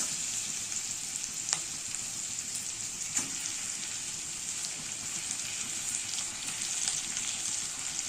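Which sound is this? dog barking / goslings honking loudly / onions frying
onions frying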